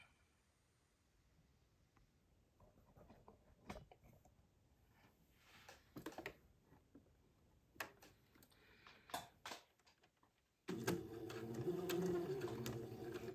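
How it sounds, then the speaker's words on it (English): A domestic sewing machine stitches along a lace insertion edge, faint scattered clicks and ticks first, then a steady close mechanical whir running continuously at the end. "And I'm going to sew along the edge of the entredo ladder to hold that in place."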